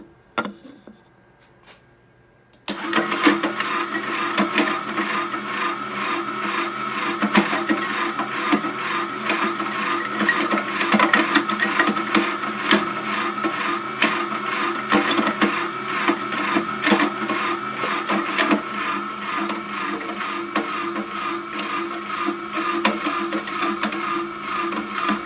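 A homemade plastic shredder with a speed control starts up after a short quiet moment and then runs with a loud, steady mechanical whir and fine rattling.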